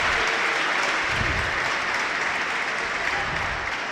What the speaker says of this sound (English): The local crowd is coming alive.